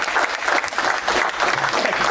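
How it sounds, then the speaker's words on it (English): Sustained, loud crowd applause for fitness competitor Howard Perry at a Dallas fitness event, dense clapping that holds steady from start to finish without letting up. "look at that long clap"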